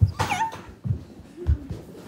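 Three-week-old puppies from a litter let out brief, high whimpers and yips, a few small cries scattered among soft snuffling and breathing close by.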